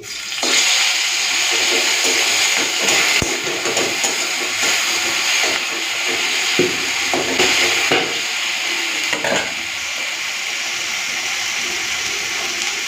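Oil crackles and hisses in a pan as small shrimp cook, with sharp spatters bursting over a loud, continuous sizzle.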